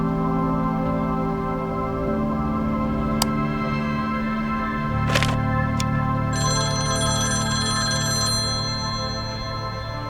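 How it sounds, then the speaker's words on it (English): An old-style telephone in the 1950s noir detective game Confidential Killings rings with repeated bright bell bursts over steady background music, loud and close, with no talking. "That phone call must be urgent at this time of day."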